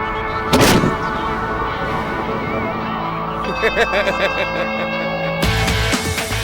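A single loud boom bursts out as a cannon made from a tree fires, followed by a noisy outdoor scene with a crowd and scattered clatter, then a second burst of noise.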